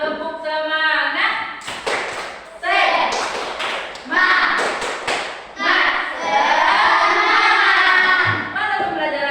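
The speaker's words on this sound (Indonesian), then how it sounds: "Tepuk semangat." A school class performs the rhythmic Indonesian spirit clap, tepuk semangat, with bursts of patterned clapping and tapping mixed with loud, chanted children's voices in a room.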